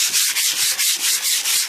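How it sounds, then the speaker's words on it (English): Wet sanding the paint on a 1988 Cadillac DeVille by hand, a steady rhythmic rasping with about eight even back-and-forth strokes, close and loud with no talking. "Let's get back to sanding."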